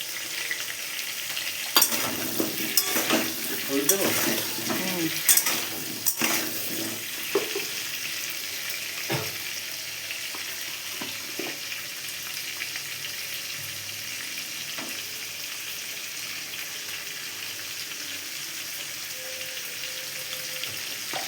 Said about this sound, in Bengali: তো আলুটা এবার ফ্রাই করে নেওয়া হবে